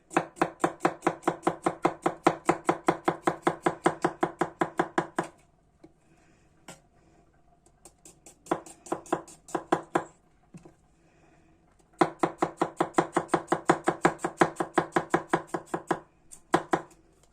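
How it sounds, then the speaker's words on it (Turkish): A knife taps rapidly on a cutting board while garlic is chopped finely for a roasted eggplant salad, coming in three fast, even bursts separated by short pauses with scattered lighter taps. "Sarımsaklarımızı da aynı şekilde ince ince"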